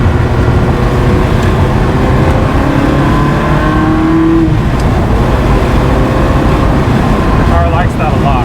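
Engine of a manual-transmission car held at steady revs through a gear change, droning loudly and evenly up close from inside the cabin, with someone speaking throughout.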